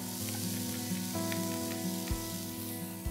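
Finely chopped garlic, ginger and green chilies frying with onions in hot oil, a close, continuous sizzle with small stirring scrapes and occasional clinks against the pan.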